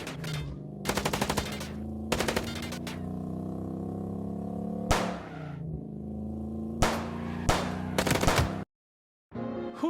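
Loud bursts of automatic gunfire from the PS4 game Chicken Police, repeated rattling volleys over a steady engine-like drone, with single sharp shots between them and a brief silence near the end.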